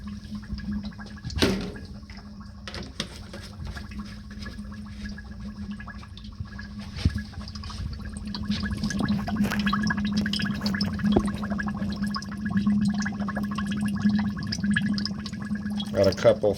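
Coolant poured into the reservoir of a 1998 Toyota Avalon during a timing belt and water pump job, gurgling and glugging unevenly at close range, with someone talking briefly over it.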